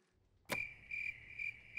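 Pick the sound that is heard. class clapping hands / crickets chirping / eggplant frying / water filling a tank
crickets chirping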